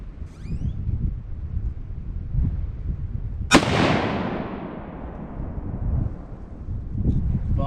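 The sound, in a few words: Ruger 77 Ranger rifle gunshot at target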